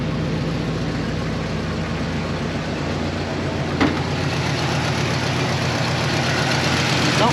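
An old truck's 302 V8 idles steadily up close, a smooth continuous rumble with a brief clunk near the middle and no talk over it.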